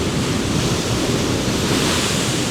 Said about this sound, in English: That is one choppy sea down there